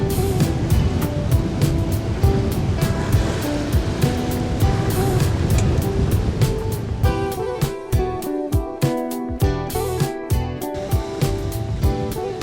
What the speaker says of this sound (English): The waves rolling on the reefs were very impressive